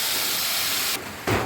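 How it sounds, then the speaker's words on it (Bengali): Ground spice paste of chilli, tomato, dried chilli and cumin sizzles and hisses steadily in hot oil for a vegetarian potato curry, a close bright spray of sound that drops back briefly before rising again. "মশলা ফুটছে, এবারে এর মধ্যে দিয়ে দেবো নুন"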